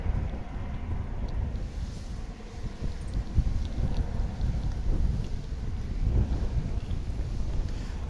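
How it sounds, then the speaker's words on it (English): Gusty wind buffets the microphone outdoors at an airport plane-spotting spot, a continuous loud low rumble that swells and dips in gusts, with no other clear sounds over it. "Very gusty wind."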